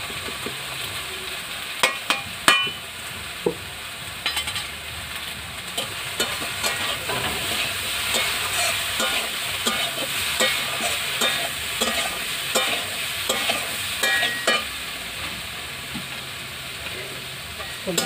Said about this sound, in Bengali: সবজিটা ভাজা ভাজা হয়ে গিয়েছে